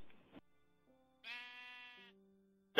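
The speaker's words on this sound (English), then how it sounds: "Right, I found a sheep." Sheep in Minecraft give a couple of short, clear bleats with a wavering tone, separated by quiet gaps and ending in a sharp click, heard alone without talk.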